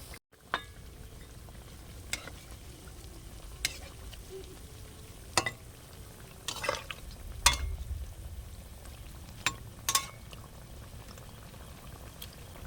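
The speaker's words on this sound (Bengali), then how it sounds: "এখন ভালো করে ভেজে নেব" Palm-juice sweets frying slowly in oil over low heat, a steady soft bubbling sizzle throughout with a few sharp clinks and taps of a utensil stirring the pan, close and fairly quiet.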